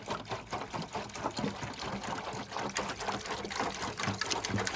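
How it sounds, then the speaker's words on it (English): Metal hardware is lowered into and fully submerged in Metal Rescue rust remover liquid, with continuous sloshing, trickling and gurgling liquid sounds in a busy, uneven rhythm close by. "you take the blaster and you submerge the stuff completely in it"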